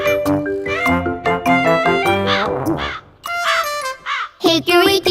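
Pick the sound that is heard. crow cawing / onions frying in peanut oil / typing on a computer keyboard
crow cawing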